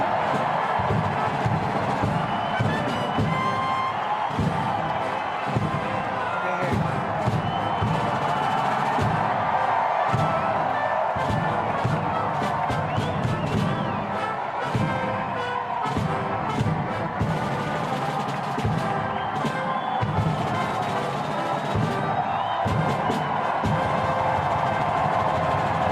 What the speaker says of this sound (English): I hear people yelling. I hear them cheering.